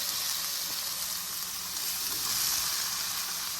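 Green pepper frying in a pot over a fire, giving a steady, loud, close sizzle that holds evenly throughout with no talking.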